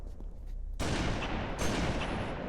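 Gunfire in Halo MCC: a soft shot early, then a sudden loud burst of shots that carries on as dense, sustained firing to the end, with a second sharp report partway through.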